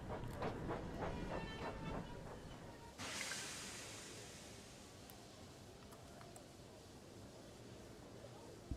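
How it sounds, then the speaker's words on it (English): A steam locomotive in a Thomas & Friends video game hisses and chuffs with rhythmic bursts, then a loud rush of steam takes over and fades into a steady, lower hiss. "Same sounds as a steam train."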